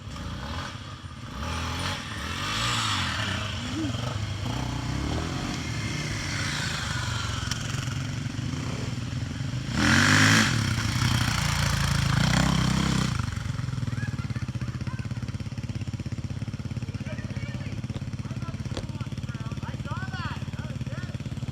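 Dirt bike motorcycles on a trail ride drone steadily through the whole stretch, swelling louder for a few seconds midway, with voices talking over the engine noise.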